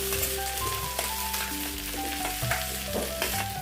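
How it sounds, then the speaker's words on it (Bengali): Fried potatoes tossed into a spice mixture in a pan for a chickpea curry, with a steady, close sizzle and spatula scrapes and clinks running throughout. "এখন আমি এই যে ভেজে রাখা আলুগুলোকে দিয়ে দেবো"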